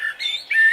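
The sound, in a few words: small bird trilling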